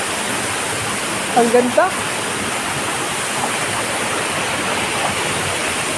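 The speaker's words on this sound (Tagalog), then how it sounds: "Dinig mo yung ragasan ng tubig guys" Honan Falls waterfall roars with a loud, steady rush of water close by, filling the whole clip, while a person speaks briefly partway through.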